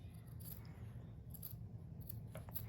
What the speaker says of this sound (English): It's time to cut around pretty close to the placement stitches